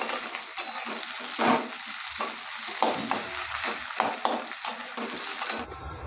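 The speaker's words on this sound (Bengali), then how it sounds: "পেঁয়াজগুলো দিয়ে দেবো, আলুর সঙ্গে আর ভেজে নেবো ভালো করে" Onions and potatoes frying together in a pan while being stirred, a steady close sizzle with repeated scraping strokes of a spatula, cutting off abruptly near the end.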